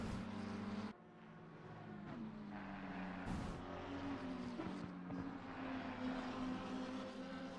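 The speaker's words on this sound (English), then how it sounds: "Hope you can hear the cars as well as myself" GT3 race cars lapping the Circuit of the Americas in a sim racing game, a steady droning engine whine with shifting pitch as cars pass and change gears, moderately loud with no talk.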